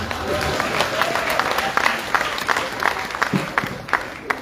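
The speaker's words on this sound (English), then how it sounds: "Please clap for yourself." Children in a hall clap for themselves at a celebration: loud, scattered claps ring out close by, while crowd voices and chatter mix in underneath.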